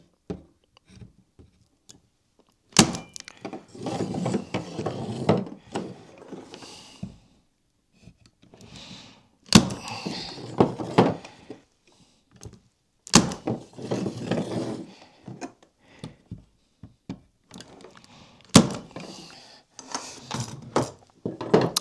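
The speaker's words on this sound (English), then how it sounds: "all we've got to do with a nail gun is nail them in." Nail gun firing into a National beehive frame, several sharp isolated bangs spaced seconds apart, with woody rattling and handling noise of the frame parts in between, close and fairly loud.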